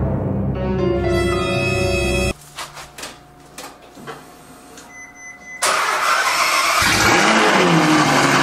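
Ferrari F12 Berlinetta V12 fitted with a catless Fi exhaust, roaring loudly through a rev, dropping to a quieter idle with small blips, then surging back to a sustained, harsh, close-up bellow.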